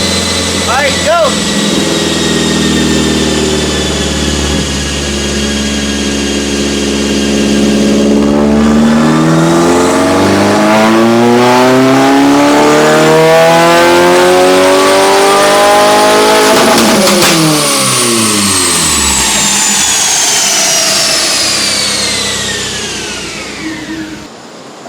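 A 2022 Subaru WRX with a custom J-pipe revs hard on a dyno, its engine droning loud and close as it climbs steadily through the rpm range, then drops off sharply, with whining spool tones over the roar.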